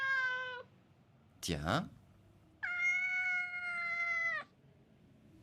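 An anime cat meows in two long, clear, drawn-out cries separated by a brief rustling noise, with someone speaking a single word in between.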